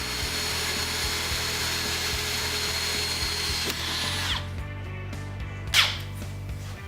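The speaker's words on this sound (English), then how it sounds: "So I'll slow down my drill so I don't break my bit." A power drill bores a hole in wood for a pocket door track, running steadily and then slowing near the end of the cut, with a short scraping burst as the bit breaks through, close and loud with no talking.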